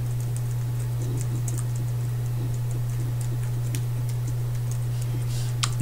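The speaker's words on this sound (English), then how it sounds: "You can actually hear me typing on my laptop" Light, irregular clicking of typing on a laptop keyboard, soft and close, running throughout over a steady low electrical hum.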